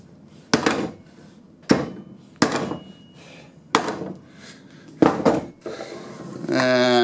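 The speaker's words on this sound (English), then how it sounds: "Let's see if I can find a suitable hammer to give them a tap." Sharp hammer taps on metal bandsaw fence parts of a homemade fence for a Rikon 14-inch bandsaw in a workshop, five distinct knocks spaced about a second apart, then a brief scraping rattle at the end.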